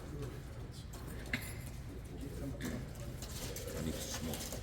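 Tippler pigeons coo steadily at a young bird show's closing round, a soft low murmur of many birds blended with crowd noise and faint talk in the background.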